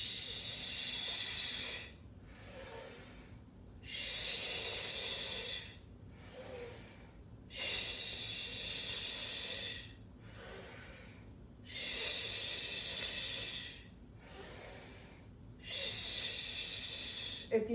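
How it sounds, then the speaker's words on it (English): Deep breathing during a yoga breathing exercise, loud airy hissing inhales and exhales alternating in a slow steady rhythm, close to the microphone. "So arms up, inhale."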